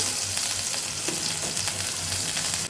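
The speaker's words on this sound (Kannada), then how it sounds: "ಮಸ್ಟರ್ಡ್ ಸೀಡ್ಸ್, ಜಿಂಜರ್ ಆ್ಯಡ್ ಮಾಡ್ತಾ ಇದ್ದೀನಿ." Mustard seeds and ginger sizzle and crackle in hot coconut oil for a non-veg dish, a dense, loud, close frying hiss that runs without a break, with no voices over it.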